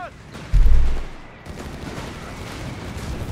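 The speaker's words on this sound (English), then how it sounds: "Artillery firing down here" Artillery fires in the strategy game Company of Heroes 3: one heavy, deep boom that rumbles and fades over about a second, followed by steady lighter battle noise.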